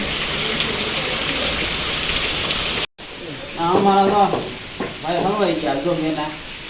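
Heavy rain pours in a steady, dense hiss for a few seconds, then cuts off and voices start talking close by.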